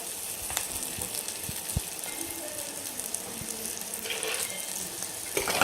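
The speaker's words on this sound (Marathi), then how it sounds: "मंद गॅसवर पाच मिनिट तेलामध्ये चांगलं असं परतून घ्यायची मिरची नरम होईपर्यंत" Green chillies sautéing in oil over a low gas flame give a steady, quiet sizzle with a few faint clicks and scrapes; no one speaks.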